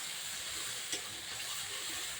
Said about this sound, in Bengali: দেখুন, এবার আমি নাড়াচাড়া দিচ্ছি।